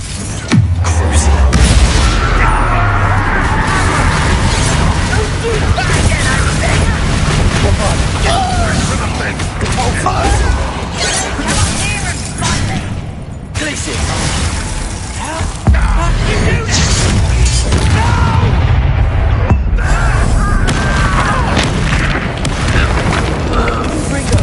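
Spell explosions from Hogwarts Legacy boom again and again amid combat, heavy low blasts and crashes over a busy game soundtrack, with character voices shouting through the fight.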